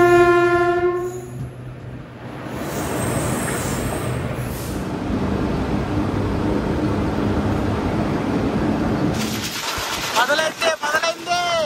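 The Tirupati–Villupuram Express runs at speed past Tirupati West halt, giving a loud continuous rumble and rattle with a brief horn at the start and a clanking passage near the end.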